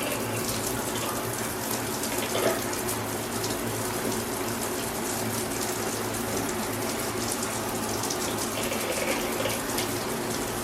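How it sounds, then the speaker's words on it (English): Shower water runs steadily in a renovated home bathroom during a test, a loud, continuous gushing spray with little variation throughout; no talking. "Let's hope the water doesn't burn you when you shower."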